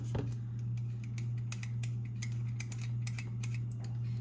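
A small peeler shaving chocolate: a run of short, scratchy scraping strokes in an irregular rhythm, heard close over a steady low electrical hum.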